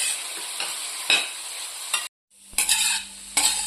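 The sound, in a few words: carrot and khoa sweet frying while being stirred in pan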